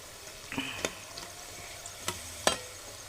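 Taklya leaf fritters fry in oil with a quiet, even sizzle, broken by a few sharp clicks and knocks of a utensil against the pan.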